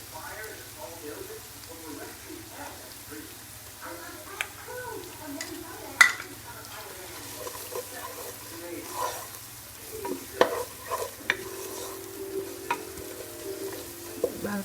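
Half a spoon of turmeric and a spoon of chili powder fry in oil for egg biryani, giving a soft sizzle with occasional stirring clinks while a voice talks over it.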